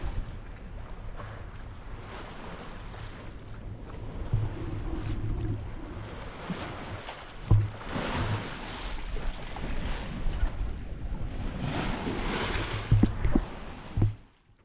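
A sailboat moves along at 5 knots in a freshening wind. A constant rush of water along the hull blends with wind buffeting the microphone, and a few louder sloshes and gusts come through with no talking.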